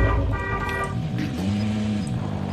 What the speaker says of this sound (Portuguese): Ó, tem até buzina aí.